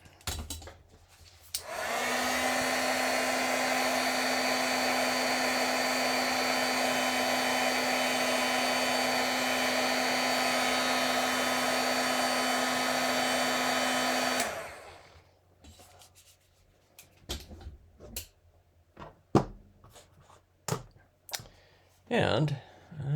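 A heat tool whirs steadily for about twelve seconds, setting stamped ink, with a loud even fan-and-heater hum; it stops, then come scattered clicks and handling noises.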